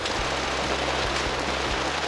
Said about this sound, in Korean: 와 지금 비가 억수같이 옵니다